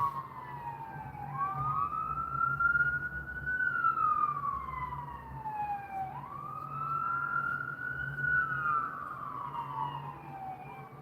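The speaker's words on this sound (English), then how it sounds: "loud sirens, ambulance" A long ambulance siren wails in slow rising and falling sweeps, fairly loud and steady over low traffic rumble.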